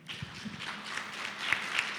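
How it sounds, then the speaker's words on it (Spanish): Applause from a seminar audience on public budgeting after a speaker is introduced, a brief, steady patter of clapping heard at moderate distance. "los aplausos son para Delfina Rossi"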